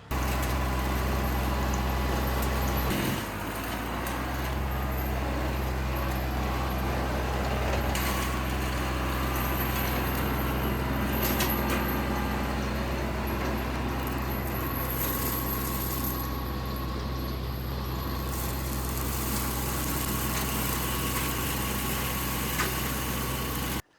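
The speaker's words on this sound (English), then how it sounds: "So I broke out the Kubota with the Baumalight." Kubota tractor running a Baumalight forestry mulcher while clearing land: a steady, loud engine drone with deep low rumble and mechanical whir, continuous throughout with no talking.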